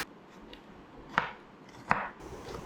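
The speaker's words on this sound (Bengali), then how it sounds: "এরপর রান্নার জন্য 4টি মাঝারি সাইজের পেঁয়াজ আমি স্লাইস করে কেটে নেব।" Medium-sized onions are sliced with a knife, giving two distinct, crisp cutting strokes against a quiet background.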